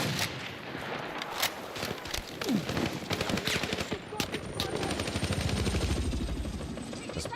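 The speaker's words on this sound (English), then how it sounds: "That's bad shooting from me right there." Rapid automatic gunfire in a video game shooter, bursts of sharp shots crackling over a busy battlefield din with engine drone, dense and close.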